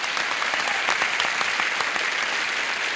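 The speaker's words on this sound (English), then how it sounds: "Would you all briskly applaud our new player" A game show studio audience applauds briskly for a new contestant, with steady, dense clapping that holds loud and even throughout.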